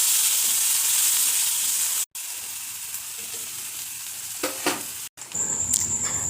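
A dried red chilli and white cumin seeds hitting hot oil with potatoes in a pan, a loud close sizzle that cuts out briefly twice, then a softer hiss with a few stirring clatters.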